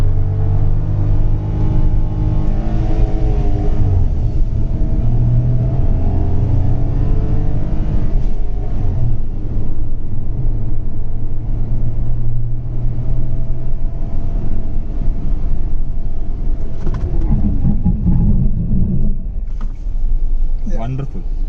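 Renault Kiger compact SUV accelerating hard from standstill toward 100 km/h, a loud cabin-heard engine drone rising through the gears with brief shift dips, someone talking over it throughout.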